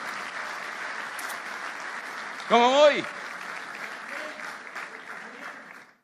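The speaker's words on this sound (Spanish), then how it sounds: "Dale un aplauso al Rey bendito." A church congregation applauds during a sermon, a steady spread of clapping heard throughout, with a man's short spoken question rising over it partway through.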